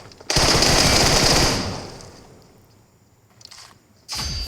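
Video game gunfire erupts in a loud, dense automatic burst lasting about a second, then decays into a fading tail before another short burst and a final sustained volley.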